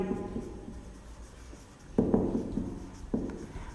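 Writing by hand while working a differential equation, the pen scratches softly in short strokes with a couple of firmer taps and scrapes, close by and quiet.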